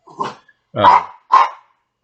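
Dogs out in the woods bark and growl nearby, three loud separate outbursts with a rough growling edge, spaced about half a second apart.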